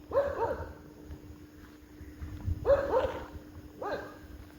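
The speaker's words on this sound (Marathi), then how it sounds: "सकाळी 4:30ला कुत्रे भुकते ते" Dogs bark in the early morning around 4:30, heard outdoors on a train journey from Pune: three short bursts of barking with whimpering yips, faint and some distance away, over a low steady background hum.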